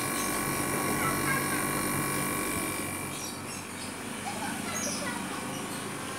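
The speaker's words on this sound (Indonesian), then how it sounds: "ini kipas menyala, blower dan kompresornya pun udah bergerak" A repaired Panasonic air conditioner runs with its fan, blower and compressor going, giving a steady, even hum and whir with a slight dip midway, alone and fairly quiet.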